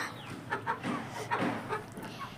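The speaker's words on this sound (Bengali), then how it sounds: "আমাদের মুরগিগুলা" Soft, scattered clucking from a few chickens, low and intermittent, with light background noise.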